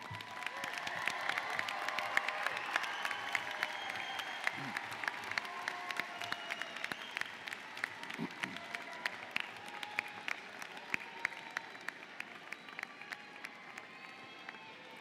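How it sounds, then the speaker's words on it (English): A graduation audience at a high school ceremony applauds steadily for the whole stretch, a dense crowd-wide clapping that gradually thins into scattered, more distinct claps toward the end. "show your appreciation with a well-deserved round of applause"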